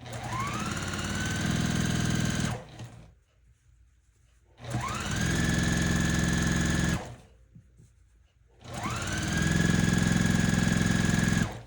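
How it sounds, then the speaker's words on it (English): A sewing machine stitching quilt blocks together runs in three steady whirring bursts of about two to four seconds each, spinning up at the start and stopping between runs, with no talk. "I'm going to sit here and stitch my blocks together"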